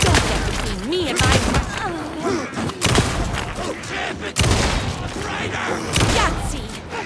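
Rapid bursts of gunfire from a firearm in the survival horror game Alan Wake 2, loud and close, firing in quick clusters with sharp thumps, mixed with game voices and a reload break.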